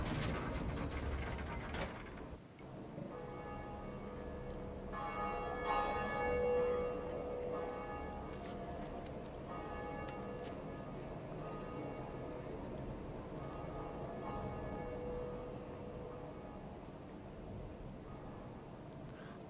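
A large bell is rung in the video game Dark Souls, heard as a single low clang that rings out and decays slowly, with mechanical ratcheting and creaking from the mechanism.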